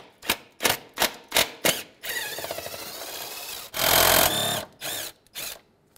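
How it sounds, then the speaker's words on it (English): A ratchet with an 8mm socket works bolts out of a 2003-2011 Honda Element air filter box: a quick string of loud, close clicks, then a rapid whirring spin and a louder buzzing burst. "We're going to remove them now using the 8mm option."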